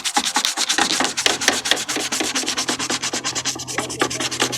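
A resin armor piece is sanded by hand with 80 or 120 grit paper, quick rhythmic back-and-forth rubbing strokes, close and steady, with no talk.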